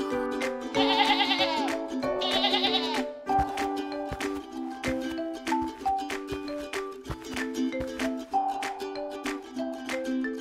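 Sheep bleat repeatedly in a cartoon animal setting, with several loud, wavering calls spaced across the clip over a busy background of music-like tones.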